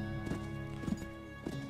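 Horse hooves clip-clop across the prairie in a video game, landing in a loose rhythm of muffled thuds that sound moderately close over a faint steady background.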